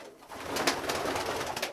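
Pigeons coo softly inside a pigeon loft, several low rolling calls close by against a quiet background.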